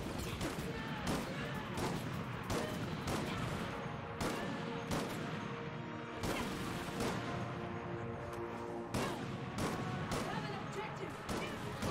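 Dense, continuous gunfire from the video game Resident Evil: Operation Raccoon City, rapid bursts and crashes layered with game music and voices throughout, loud and busy with no pauses.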